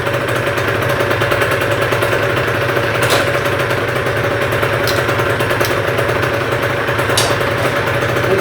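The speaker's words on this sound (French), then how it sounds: "Ok, on démarre la moto" A Honda HM motorcycle engine runs at a steady idle, a loud, close, continuous mechanical rumble with fast rattling pulses and a few faint clicks, no talk.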